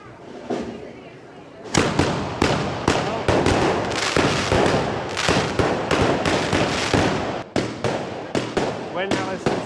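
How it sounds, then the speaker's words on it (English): Loud, rapid bursts of fireworks at a traditional Spanish fiesta crackling and banging continuously after a quieter start, dense and close, with voices faintly underneath. "they got fireworks"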